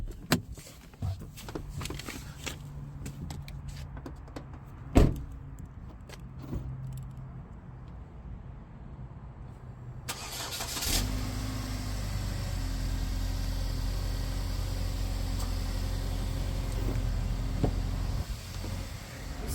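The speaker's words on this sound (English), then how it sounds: "the best thing about this vehicle is its remote start." A car at a dealership lot starts by remote start after some clicks and handling sounds, then settles into a steady, close, low engine idle that holds to the end.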